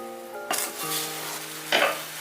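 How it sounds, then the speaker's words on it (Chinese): Crab in a clay pot gives a sudden loud sizzle as cooking wine is poured in, a steady hiss follows, then a second burst of sizzling near the end, with a faint tonal hum underneath. "淋上少许料酒，再焗30秒。"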